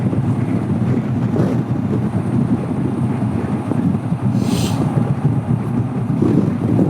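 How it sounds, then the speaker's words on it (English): Constant heavy wind buffets the microphone of a stationary Honda CB500X motorcycle rider, a loud low rumble that never lets up, with faint traffic underneath. "Ooh, it's windy."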